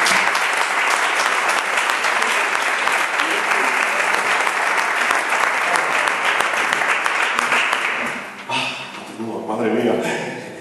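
Loud, sustained audience applause for about eight seconds at a live literary event, then it dies down and a voice begins speaking in Spanish.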